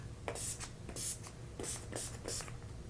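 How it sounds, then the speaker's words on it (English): Makeup setting spray hisses in a series of short, quick pumps, soft and close, about five bursts in under three seconds. "I'm just going to set my contour. Let's make this chin a little smaller. Setting spray."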